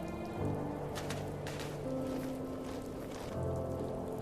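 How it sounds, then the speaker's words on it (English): Steady, soft video game rain patters without a break under low sustained tones, with a few faint drops standing out. "Oh, it's raining now."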